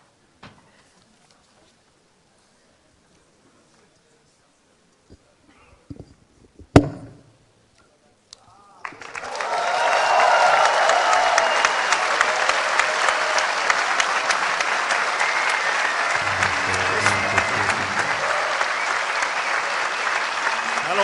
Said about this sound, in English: give him a big and great applause